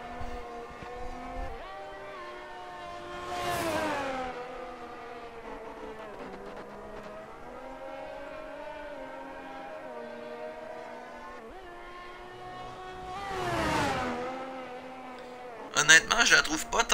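A Ferrari Monza edition 2022 in a racing video game holds a steady engine drone, with two sharp revving surges swelling loud, and a brief noisy burst at the end.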